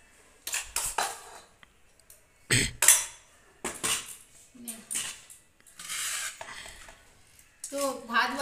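Serving rice and boiled eggs at home, with utensils clinking and scraping against plates in several short, close bursts separated by quiet gaps, and a faint voice near the end.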